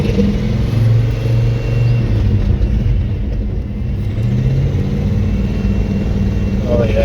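A 1986 Ford F250 engine revs loudly and steadily up close, its low rumble rising and easing, while a person speaks briefly over it.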